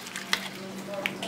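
Shrimp and asparagus stir fry sizzling in a pan with water just added while being stirred, a steady close hiss with a couple of sharp utensil scrapes against the pan.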